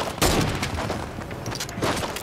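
Several heavy .50 shots boom in quick succession during a Fortnite match, loud close bursts with a rumbling tail between them.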